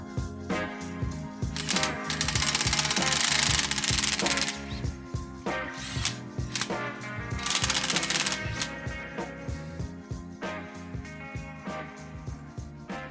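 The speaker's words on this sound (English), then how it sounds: "I'll grab my impact with a very long 19 millimeter socket to pull this hub into the control arm." An impact wrench with a long 19 mm socket pulls a wheel hub into the rear control arm of a Porsche 914. It rattles in loud, rapid hammering bursts with short pauses between them, close up in a garage.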